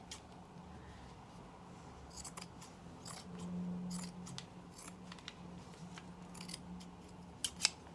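Scissors snip through paper templates laid on a table, a series of quiet, irregular crisp cuts and rustles with brief pauses in a still room.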